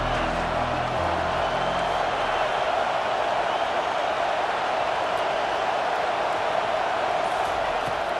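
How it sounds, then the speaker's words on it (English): Steady roar of a packed stadium crowd at a Clemson versus top-ranked Georgia college football game, a dense continuous wash of noise without pause. "This crowd trying to make life miserable for this offense."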